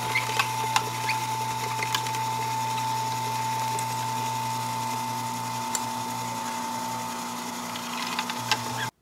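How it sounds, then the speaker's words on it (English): An Omega juicer grinds soaked split peas, giving a steady mechanical hum with a sustained tone and light rattling patter that runs for about nine seconds before stopping abruptly. "Hubby's gonna use his omega juicer to grind all of this fine for me."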